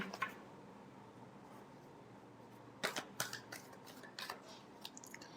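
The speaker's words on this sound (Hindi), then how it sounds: "last shuffle" Tarot cards shuffled during a reading, a few quick papery riffles and slaps clustered near the end after a quiet, hissy stretch, close and fairly soft.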